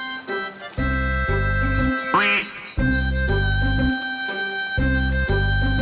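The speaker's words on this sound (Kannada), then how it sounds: "ಇದನ್ನ ನಾವು ಮ್ಯಾಲಡ್ ಡಕ್ ಅಂತ ಕರಿತೀವಿ" A mallard duck in a children's cartoon quacks loudly in repeated bursts, nasal and close, over a steady musical backing.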